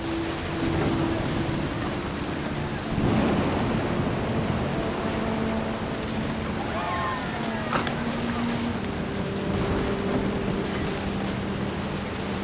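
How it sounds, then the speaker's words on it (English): A video-game thunderstorm from What Remains of Edith Finch: steady heavy rain hiss fills the scene, with low thunder rumbles and a sharper crack partway through, while a faint tonal hum drifts underneath. "The thunder sounded much too close and full of angry power"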